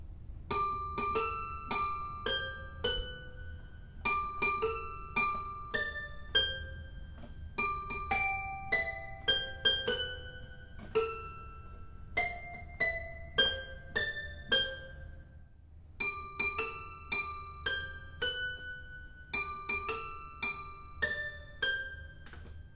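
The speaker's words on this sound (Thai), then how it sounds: "มารู้จักกับเอลิเซ่มินิเปียโนกันแล้วเนี่ย" A melody plays on an Elise mini piano toy as a steady series of bright, bell-like chiming notes, some paused between phrases, clear and alone against a quiet background.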